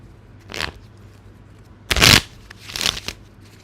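A deck of cards riffle-shuffled in three quick bursts, the middle one loudest, crisp rustling flutters separated by short quiet gaps, close to the listener with no voices.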